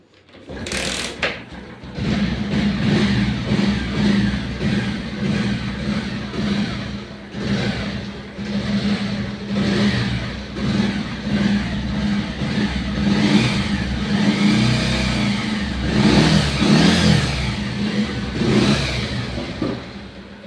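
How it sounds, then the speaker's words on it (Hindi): A five-year-old Bajaj Pulsar 125 motorcycle with a weak battery is kick-started: a sharp kick, then the engine catches and runs with a steady, close mid-pitched putter, revving slightly up and down. "Let's start this bike. इस पर थोड़ा बैटरी का इशू है,"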